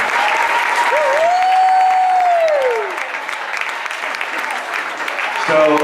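A crowd claps steadily for the School of Rock class of 2013 at a Queen show senior tribute, with a long sliding whistle rising over the applause before it thins out near the end.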